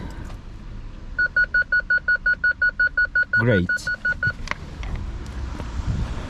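A BMW E46 320ci coupe's parking sensor gives a regular series of short electronic beeps, about a dozen evenly spaced, with a brief voice and a whistle-like sweep partway through.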